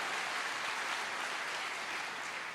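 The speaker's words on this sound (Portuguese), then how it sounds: "Pode aplaudir, não tenha vergonha de se expressar." An audience applauds in a church during a sermon, a dense, continuous clapping that fills the space evenly and stays loud throughout.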